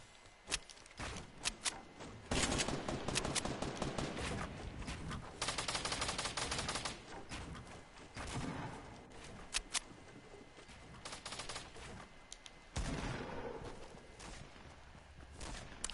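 Fortnite gunfire rings out in repeated bursts and rapid volleys, loud and close, with sharp single shots between the longer fusillades and brief quieter gaps.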